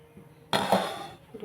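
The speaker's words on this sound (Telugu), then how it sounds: "స్టవ్ వెలిగించి గిన్నె పెట్టుకుంటున్నామండి" A single metallic clang as a pot is set down on a lit gas stove, its ringing fading over about a second, with a quiet voice near the end.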